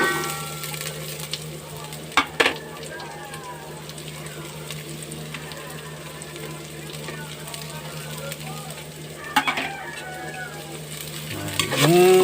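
Garlic and onion sizzling in a hot pan, a steady frying crackle with a few louder stirring clatters, close and continuous, for a Filipino papaitan dish cooked outdoors in the province.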